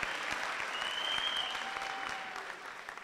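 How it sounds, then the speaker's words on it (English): Sustained applause from graduates and families at a university spring graduation ceremony, a steady dense wash of clapping that gradually tapers off toward the end, heard at moderate distance. "You can give yourselves a big round of applause."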